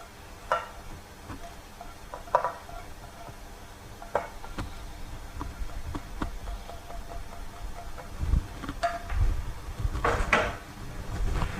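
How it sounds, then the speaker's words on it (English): Spring onions are stirred through mashed potatoes in a pot with a spoon, giving soft intermittent scraping and thumping under a low background hum. "Just give that a stir around to mix it in."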